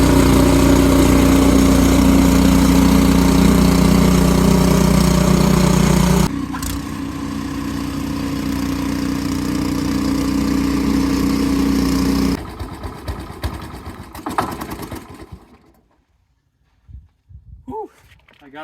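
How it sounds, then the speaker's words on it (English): A Powersmart 26-inch snowblower engine runs loud and steady for about six seconds, then continues at a lower, rougher drone before cutting out, leaving faint rustling and brief voices near the end. "I gotta say, I am impressed with this snowblower"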